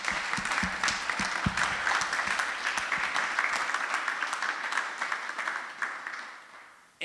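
Audience at a festival discussion session gives sustained applause, a dense even patter of many hands that holds steady for several seconds before tapering off near the end.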